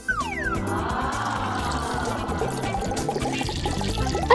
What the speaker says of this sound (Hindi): अब इसे पानी भरती हूँ।